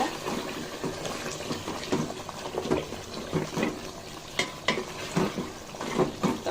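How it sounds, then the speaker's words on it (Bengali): Chicken for biryani is stirred in a pot as it cooks down in its own released water, giving irregular close scraping and wet sloshing strokes with soft bubbling beneath. "মাঝে মধ্যে নাড়াচাড়া দিয়ে নিব"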